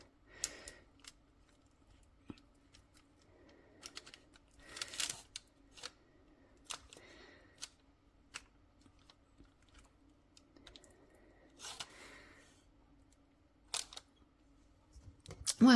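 Cake batter for a pear upside down spice cake is scraped from a bowl, soft intermittent scrapes and light clicks at close range over a quiet low hum, with no talking.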